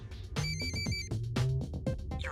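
Mobile phone ringing in an animated action series, a loud repeating electronic ringtone in short bursts with no talk over it.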